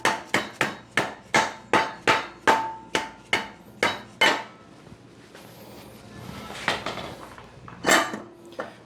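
About a dozen quick, evenly spaced hammer taps seat parts into a 9-inch Ford rear end on a 66 Mustang, sharp and close, followed by softer clinks and a final metallic knock.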